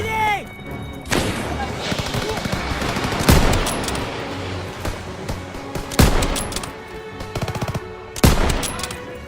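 Machine gun fire in the World War II shooter Call of Duty WWII bursts out repeatedly over a busy battlefield din, with heavy booming impacts and shouted voices mixed in.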